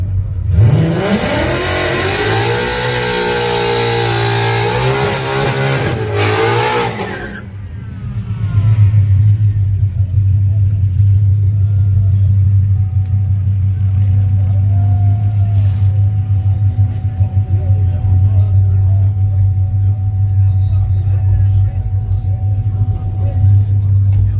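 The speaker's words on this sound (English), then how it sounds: "they love doing some burnouts up here" A car does a burnout at a street race, its engine revving hard and loud for several seconds before dropping into a deep, steady rumbling idle, with people talking nearby.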